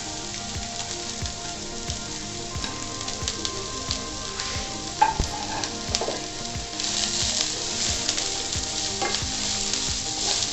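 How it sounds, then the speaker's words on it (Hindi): Chopped vegetables for hakka noodles stir-fry on high heat, giving a steady crackling sizzle with regular scraping and tossing strokes in the pan, close and continuous throughout. "अब इसमें जितनी सब्जियां हमने काटी है सब डाल देंगे एक साथ।"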